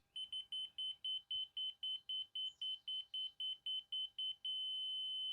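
Rapid high-pitched electronic beeps from a laser alignment guide on a saw cutting a 6x6 post, in a steady pulsing rhythm, about fifteen, then merging into one continuous tone.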